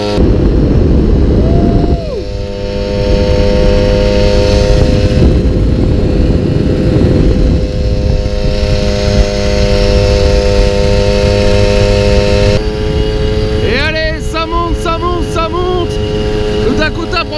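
MBK 51 Dakota moped with an AV10 engine and Leo Vince exhaust climbing a mountain road, a loud, steady buzzing engine note that holds its pitch under load and rises again near the end as it gains speed.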